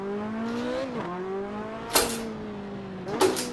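A rally car on the Forest Rally track in Assetto Corsa buzzes through rising and falling engine revs with quick gear shifts, punctuated by two sharp bursts of gravel or impact noise.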